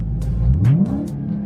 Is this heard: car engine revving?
yes